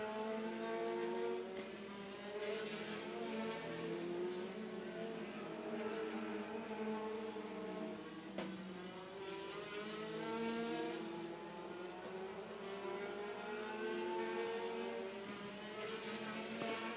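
Midget race cars lap a speedway during a midget main event, a dense continuous engine drone with rising and falling pitch as cars pass, steady and fairly distant with no talk.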